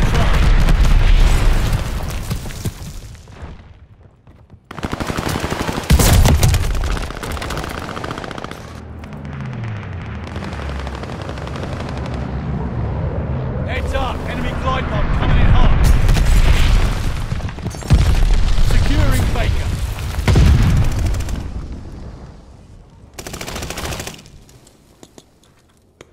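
Video game battle with aircraft strafing an objective: loud bursts of machine-gun fire and booming explosions come in waves, with brief quieter gaps between the heavy volleys.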